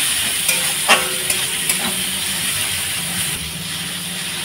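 Onions fry in a pan for a Bengali fish curry, a steady hiss of sizzling oil with a few scraping stirs from a spoon, close and alone without talk.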